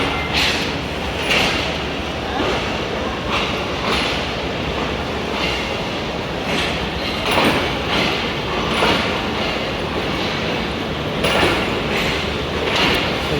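The Faizan Milad Express, a special train pulled by a locomotive, departs Lahore for Karachi. It gives a continuous rumbling roll with repeated rhythmic clacks of wheels over rail joints, loud and steady throughout.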